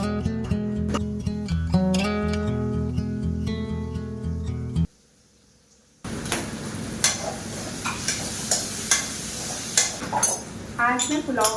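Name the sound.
cooking pots and utensils clinking in kitchen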